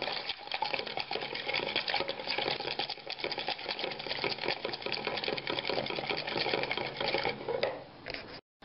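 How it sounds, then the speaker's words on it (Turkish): Yogurt being whisked into a batter for cheesy spoon fritters, a steady fast scraping and clicking of whisk against bowl running continuously and fairly close, stopping abruptly near the end. "Onunla birlikte çırpmaya devam edeceğiz."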